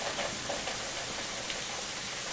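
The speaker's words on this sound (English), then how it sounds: "That's big raindrops." Heavy rain with big raindrops falls steadily as a dense, even hiss with scattered drop impacts, continuous and moderately faint, without voices.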